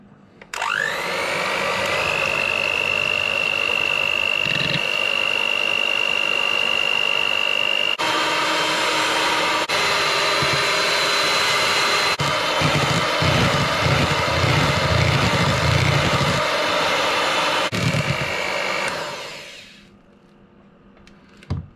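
Electric mixer whisking egg whites in a bowl for mango float, a loud steady whirring drone that starts abruptly, shifts pitch as the beaters move, then winds down and stops near the end.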